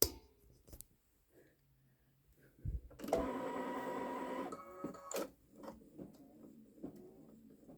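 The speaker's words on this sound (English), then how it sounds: "So this is, I'm going to stitch out now." A Babylock Solaris embroidery machine stitches an edge-to-edge quilting design, its steady mechanical whirr running for about two seconds after scattered handling clicks, then giving way to quieter taps and clicks.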